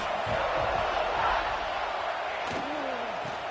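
Crowd noise fills a college football stadium during an Oklahoma Sooners game, a steady loud roar with a brief whistle-like rising tone near the end.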